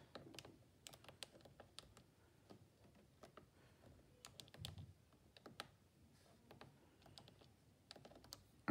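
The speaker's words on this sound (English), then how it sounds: "type in the equation" Keys clatter on a computer keyboard as an equation is typed into a graphing calculator program, a quiet, uneven run of close clicks and taps with short pauses between bursts.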